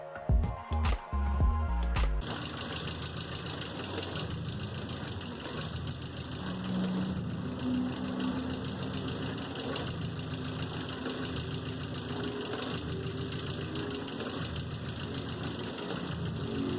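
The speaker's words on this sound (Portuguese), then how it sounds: "vamos ligar o carro aqui e refazer o teste" Renault car engine started and left idling, a few sharp cranking bursts followed by a steady low rumbling idle with a constant hum, heard close and alone for the rest of the stretch.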